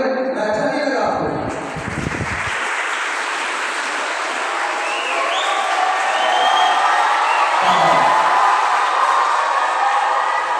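An audience claps at a school poetry recital program, sustained crowd applause filling the room, with brief bursts of talk near the start and again near the end.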